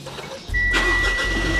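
A 2016 Mitsubishi Pajero Sport 2.4 GT diesel is push-button started with the air conditioning off: a brief starter whir, then the engine catches and settles into a loud, steady low rumble.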